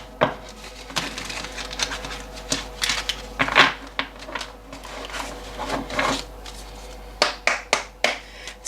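Earth Woman Tarot cards are picked up and handled, giving a string of light taps, clicks and soft shuffling rustles, close and fairly quiet, with a sharper cluster of clicks near the end.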